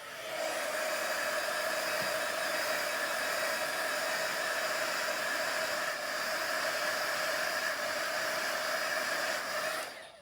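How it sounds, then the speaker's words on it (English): A craft heat tool blows hot air in a steady, loud whooshing roar with a faint whine, running nonstop for about ten seconds before cutting off. "I'm going to hit that with my heat tool just a bit."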